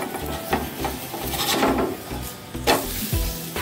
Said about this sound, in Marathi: एका बाजूने मस्त शेकलेलं आहे थालीपीठ आपलं. आता दुसऱ्या बाजूने शेकून घेऊ.